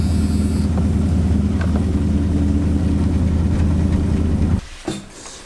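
A diesel truck engine idles close and loud in a steady low rumble, then drops off sharply near the end, leaving quieter background noise.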